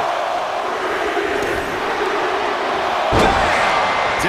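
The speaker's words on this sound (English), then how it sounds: "Dragged around into a neck breaker." A neck breaker slam in the WWE 2K24 video game during a 30-man Royal Rumble match: a loud crowd roar runs throughout, and a single heavy thud of impact lands near the end.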